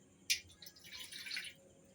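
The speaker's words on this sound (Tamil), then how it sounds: "இதில் அரை கிளாஸ் தண்ணி" Half a glass of water pours into a pan while making black jaggery adhirasam in a home kitchen, a brief splash and trickle heard faintly and alone.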